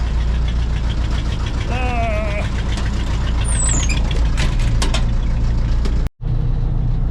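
A Case 580C backhoe engine idles with a steady, knocking diesel chug up close, broken by a high hydraulic whine and a brief squeal, before cutting off abruptly near the end.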